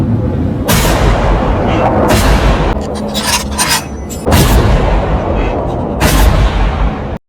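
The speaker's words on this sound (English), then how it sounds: "Luckily, Matthews was already in the right position and immediately fired around the debris pile in several directions" Repeated gunfire in a war film set around a debris pile, loud bursts and blasts coming in several heavy clusters across the span with no talk.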